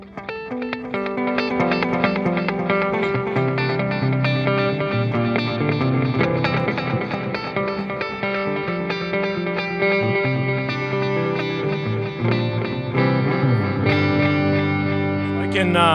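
An electric guitar plays through the echo setting of a Source Audio Soundblox 2 Dimension Reverb pedal at a NAMM trade-show demo, with sustained chords and repeating echoes filling the whole stretch continuously and fairly loud.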